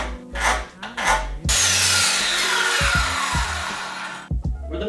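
Wood being shaved off a desk board little by little, a few short scraping strokes and then a long continuous loud rasping cut close by, ending with brief knocks and scrapes.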